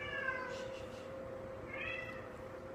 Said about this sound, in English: Sorry, the cat.